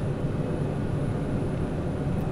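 Pilatus PC-12 NGX turboprop rolling on the runway at Frankfurt Egelsbach, heard from inside as a dense, steady, loud engine and airframe roar with no pauses and no talk.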